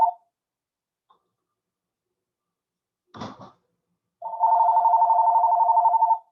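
A telephone rings in a quiet room with a steady warbling trill lasting about two seconds, preceded by a brief clatter, with no talking over it.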